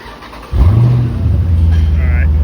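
A Jeep SRT engine cranks and catches, then settles into a loud, deep rumble with a slight rev, recorded close up and continuous after a quiet start.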